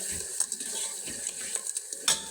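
Green chilies and tomatoes frying in a pan while being stirred, a low sizzle broken by a few clinks and scrapes of a spoon on metal, close and moderately loud.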